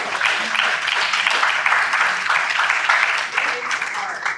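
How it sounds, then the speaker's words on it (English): A group of filmmakers at a welcome retreat for a film festival applauds themselves, a steady dense round of clapping filling the room at even loudness throughout, with no voices over it. "can we all give ourselves a round of applause?"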